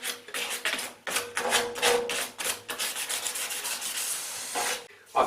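Close-up rhythmic rubbing of sandpaper over the edges of a metal radiator being prepped for Hammerite radiator paint: quick back-and-forth scratchy strokes, then a longer steady pass.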